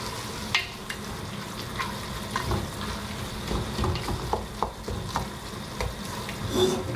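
Celery and thyme fry in a pan, giving a steady close sizzle with occasional soft clinks and scrapes of stirring and no talking.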